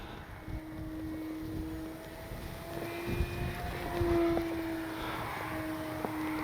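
E-flite D-18 twin-engine warbird radio-controlled model airplane pulling a big loop overhead, its electric motors giving a steady whine that rises and falls in pitch, faint against outdoor wind and a few small thumps; no talk.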